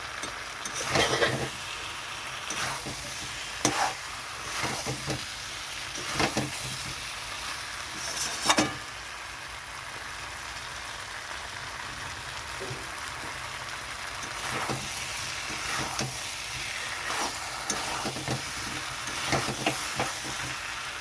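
Potato and tengra fish curry sautéing in a pan gives a soft continuous sizzle and hiss with intermittent stirring scrapes and clunks, steady and close throughout.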